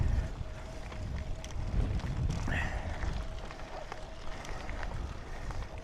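Steady wind buffeting the microphone on a tandem bicycle riding uphill into a headwind in Portugal, a continuous low rumbling roar filling the whole stretch with no talk.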